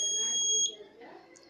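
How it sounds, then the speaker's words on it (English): An IoT fire detector buzzer sounds a sharp, high electronic tone for about half a second and then cuts off, leaving faint background noise. "Fire detector."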